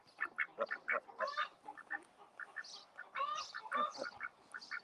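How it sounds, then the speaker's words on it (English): Several ducks quack in quick, uneven bursts close by, overlapping honks and chatter rising and falling with no talk over them. "And my ducks."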